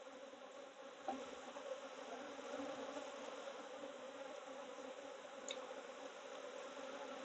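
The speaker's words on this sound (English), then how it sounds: "our main goal is to shake the bees off, just to make it faster" Honeybees buzzing around a hive being worked for swarm control in early spring, a faint, continuous, even drone of many insects with no voices.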